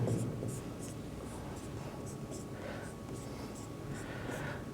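Chalk or marker strokes on a board mark out a benzene formula in a steady rhythm of short scratches. They sit close over a constant room hiss.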